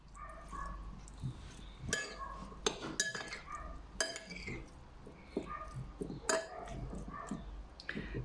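Salad tossed with a lime infusion in a bowl, utensils clinking and scraping against the dish in irregular sharp knocks, close and fairly quiet.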